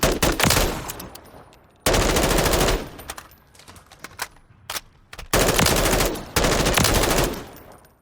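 A BCM M4 Recce rifle in Call of Duty: Modern Warfare III firing several loud, sharp full-auto bursts separated by short pauses, with quieter single shots and echoing tails between them.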